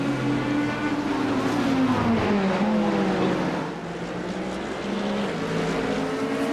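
Corvette race cars circling Daytona in the iRacing sim, a 24-hour endurance event; loud sustained engine drone with rising and falling pitch as cars shift and pass, steady and close throughout with no voices.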